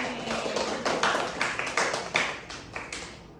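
A classroom group claps in a short round of applause, a scattered patter of hands rising and fading over a few seconds, moderately close with no talking.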